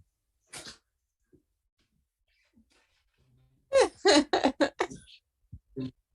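A dog lets out a quick run of sharp, close snorting and sneezing bursts after a few isolated faint sounds, set against near silence with a person speaking briefly.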